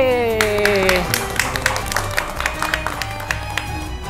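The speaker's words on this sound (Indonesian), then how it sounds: "Ini tepuk tangan semua ya" Applause for the first-place group at a children's Quran school quiz event in Pekalongan, with scattered claps rising after a sung or spoken voice fades, moderately loud with some voices underneath.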